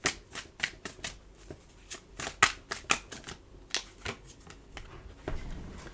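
Tarot cards being shuffled close up, a quick series of sharp riffling flicks in uneven bursts, quiet and without talk.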